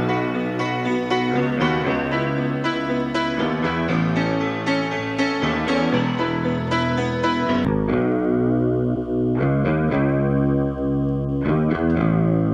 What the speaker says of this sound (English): then we're going to listen to the bass line isolated so we can see what it really sounded